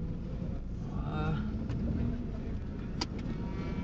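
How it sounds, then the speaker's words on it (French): A warmed-up motorcycle or car engine idles with a low, steady rumble close by, while faint voices and small clicks drift over the even drone. "Là laisse-le tourner un peu au ralenti ton moteur"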